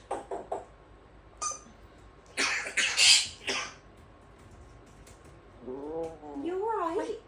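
A pet parrot gives harsh, cough-like bursts in the middle of the clip, with softer squawks and chirps before and after, all fairly close and moderately loud.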